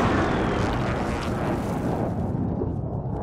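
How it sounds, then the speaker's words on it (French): Precision airstrike in Call of Duty: Warzone, a heavy rumbling explosion roaring broadband and loud from the start, then slowly fading over a few seconds with no talk. "attention, bombardement de précision en approche"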